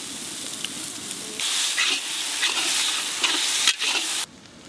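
Ginger-garlic paste dropped into hot oil in a frying pan for an egg masala gravy cooked outdoors in the jungle, where a steady sizzle jumps into a louder, hissing crackle before cutting off abruptly near the end.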